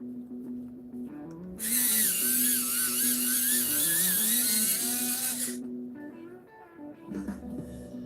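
An olive colored pencil is ground in a sharpener, a high buzzing whir lasting about four seconds in the middle, with quieter handling noises before and after.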